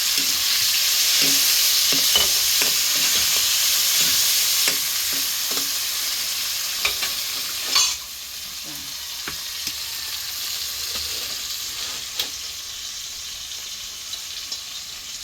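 Onion and tomato sauté in a hot pan with a steady, close sizzle and hiss that eases slightly partway through, broken by occasional spatula scrapes and clicks against the pan.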